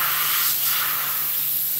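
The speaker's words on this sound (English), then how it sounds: "I normally spray it on, so it's not as thick as brushing" Glue sprayed onto work gloves in a shop, a steady close hiss of aerosol spray lasting throughout, with no talking.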